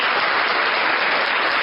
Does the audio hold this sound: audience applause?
yes